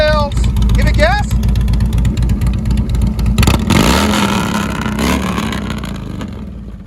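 A 2011 Harley-Davidson Road King with fishtail exhausts rumbles loudly nearby in a rhythmic idle, then revs up and settles back, with someone talking over the engine at the start.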